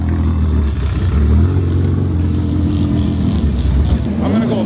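Cars leaving a car meet at a concours event, a continuous rumble of engines and exhaust close by with some revving and clatter.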